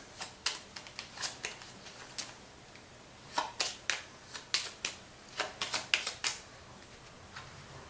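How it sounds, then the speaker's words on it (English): Playing cards from a tabletop game deck are shuffled by hand nearby, a run of sharp papery riffles and snaps in uneven bursts with short pauses between them. "I'm going to take the old cards, shuffle them"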